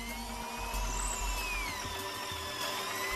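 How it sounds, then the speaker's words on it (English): Hammer drill boring into hard rock inside a cave in Mustang, a steady, loud, continuous grinding whine with a constant low rumble running the whole time, close by. "Do you have the hammer drill function on, too, by the way?"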